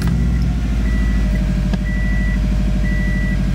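Subaru engine just after crankshaft and camshaft sensor replacement, running with a loud, close, steady throb and periodic beeping chimes over it, with no talking.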